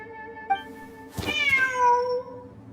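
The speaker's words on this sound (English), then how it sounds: "Wait, there it is! The cat!" A cat in a video game meows once in a clear, drawn-out, rising-and-falling call, preceded by a soft chirp, over a quiet sustained musical background.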